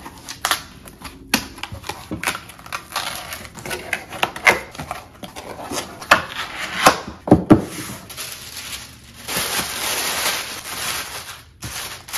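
White tissue paper being folded and wrapped around a journal while packing a small-business order, giving close, dry crinkling and rustling with scattered taps and handling knocks, loudest in a sustained crumpling stretch near the end.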